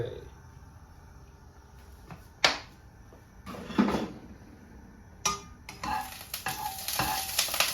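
Oil heats in a pan for stir-frying winged beans with chili paste, with a quiet background hiss and several sharp pan and utensil clanks, before the sizzle swells louder near the end.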